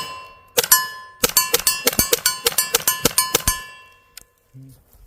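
BK Kinetics less-lethal rounds fired from an airgun strike a steel target in a rapid string of sharp, ringing metallic clangs, each hit decaying quickly, loud and close, before falling quiet.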